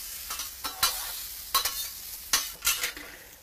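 Sliced jalapenos being tossed with oil, salt and pepper, a few separate bursts of wet rustling and scraping between quiet pauses, close and without any talk.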